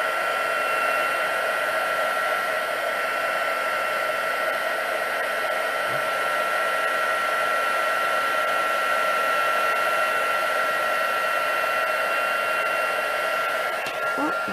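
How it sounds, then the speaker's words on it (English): A heat tool blows steadily and loudly at close range, setting embossing paste on a stenciled card, with an unbroken whoosh that holds for the whole stretch and no voices. "See the difference between where I'm embossing it, heat setting it?"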